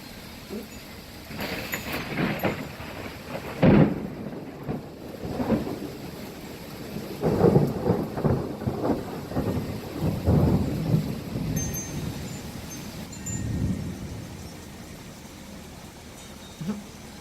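Thunder rumbles repeatedly through a rain-soaked thunderstorm over Cincinnati, with several loud low booms and rolling peals rising and fading against steady rainfall.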